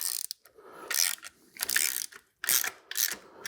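A ratchet tightens bolts on a compressor bracket while fitting an AC, alternator and power steering bracket kit to a 2014–2019 LT truck, heard up close as short bursts of rapid clicking in a stop-start rhythm with brief pauses between strokes.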